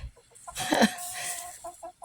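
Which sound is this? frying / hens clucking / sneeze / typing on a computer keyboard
hens clucking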